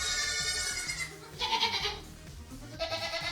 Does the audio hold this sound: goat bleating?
yes